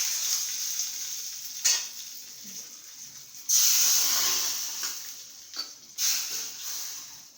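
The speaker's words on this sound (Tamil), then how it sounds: "கடுகு பொரிஞ்சதும் காஞ்ச மிளகாய் போட்டுக்கலாம்." Mustard seeds, dried red chillies and curry leaves sizzle in hot oil for a rasam tempering, giving a steady hiss with sharp, loud crackling surges as each ingredient goes in.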